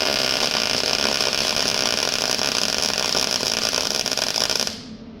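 Steady, loud buzzing crackle of a MIG welder spot welding, a continuous harsh sizzle that holds evenly for several seconds before cutting off abruptly.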